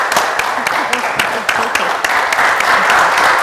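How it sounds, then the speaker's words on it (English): An audience in a studio setting applauds a guest barrister, with sharp individual claps standing out over a continuous bed of clapping and murmur, loud and close. "Please, a round of applause for her."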